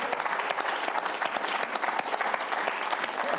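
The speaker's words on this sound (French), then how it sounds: "Je crois qu'on peut encore l'applaudir." A studio audience at a French lookalike game show applauds a winner, a steady, dense wash of clapping that fills the whole stretch at an even level, with no voices standing out above it.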